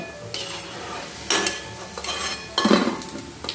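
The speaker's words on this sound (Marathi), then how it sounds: "आवाज पण बघा कसा खडखड खडखड येतोय, म्हणजे भजी खूप मस्त तयार झालेली आहे" Green moong bhaji fritters being stirred and lifted from hot oil in a pan, with a soft sizzle beneath and several sharp scraping, clinking strokes of a metal utensil against the pan, close by.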